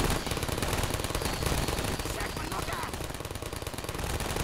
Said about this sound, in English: Turrets have got this under control.